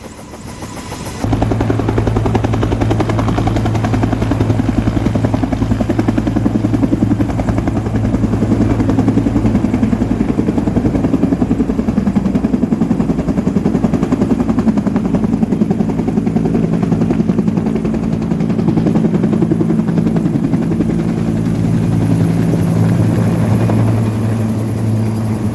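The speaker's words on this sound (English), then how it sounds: "How big is that helicopter?" A helicopter's steady, heavy rotor thrum and engine roar fills the whole stretch, loud and close, with no talking.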